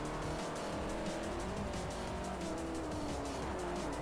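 Race car engines roar continuously in Forza Motorsport 4, with a Ferrari and a Lamborghini among the field, loud and close, rising pitch sweeps and tire squeal through corners, alone without talk.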